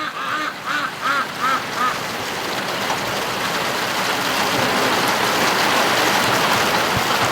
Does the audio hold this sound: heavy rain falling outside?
yes